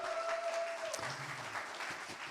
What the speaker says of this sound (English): Give them a round of applause for all these incredible teams from around the world.